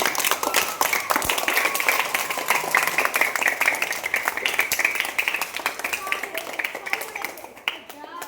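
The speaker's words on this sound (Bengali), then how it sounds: "একটু হাততালি দাও, ওটা পারছে ওরা।" Children at school games clap in a fast, continuous patter that runs without a break, with their voices mixed through it.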